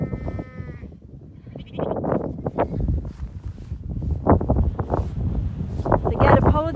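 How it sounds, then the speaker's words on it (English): Strong wind buffets a microphone on a sheep farm at lambing time, gusting and rumbling, while sheep and lambs bleat repeatedly nearby. "apologies if the wind is being a little bit annoying"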